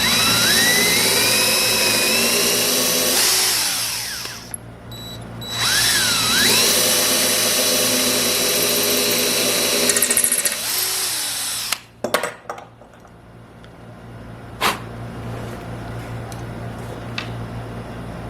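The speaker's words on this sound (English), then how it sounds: "Now to drill the main hole for the screw shaft." A power drill bores the main hole for a screw shaft in a wooden plug-filling job, whining loudly in long sustained runs with pitch dips under load. It stops, then gives a few brief taps and bursts.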